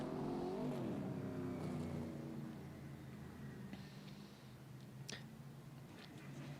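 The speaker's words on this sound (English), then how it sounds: "get the signal to double up for 25 laps of loud, raw horsepower here at the Bull Ring, the quarter mile at Grand Bend" Race cars roar around a quarter-mile oval speedway, engines revving loud and raw and then settling into a steady drone, with a sharp crack near the end.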